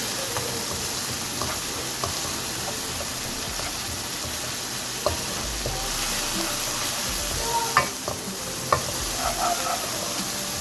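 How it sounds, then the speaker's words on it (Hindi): Onions sautéing in a pan with ginger-garlic paste and about 300 g of minced meat, a steady close sizzle with scattered clicks and scrapes of stirring throughout. "अब हम इसको सौते करेंगे, और इसी के साथ में मैं कीमा ऐड कर दूँगी"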